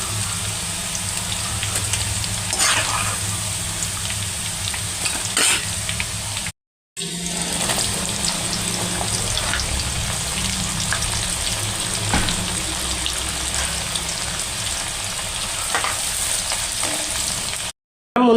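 Bitter gourd pieces shallow frying in oil for an Andhra-style pickle give a steady, close sizzle throughout, with brief breaks, no voices.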